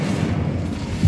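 An Incendio fire spell cast in Hogwarts Legacy gives a steady, low, booming rumble of flame that holds for about a second and swells slightly at the end.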